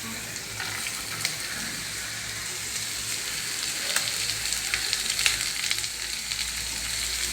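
Chopped avara beans fry in a hot pan for a Kerala thoran, giving a steady close sizzle with faint stirring clicks throughout.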